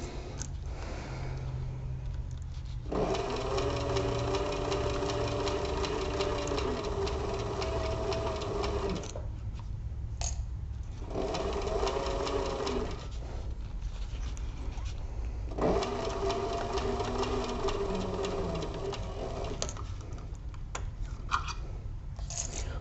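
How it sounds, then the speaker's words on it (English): Sewing machine fitted with a walking foot stitches a crossbody bag, climbing over a thick seam; three long steady runs of whirring stitching separated by short pauses, close and alone. "I do want to make sure that the walking foot just walks right up over that seam and keeps on a trucking"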